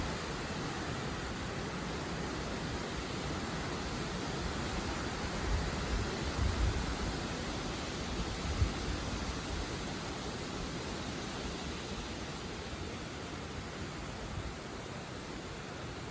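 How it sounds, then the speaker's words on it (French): Strong southwest wind blowing at around 60 km/h on a summer day, a steady loud roar of rushing air with rising and falling gusts, heard alone with no voices. "Ah, de grosses rafales quand même."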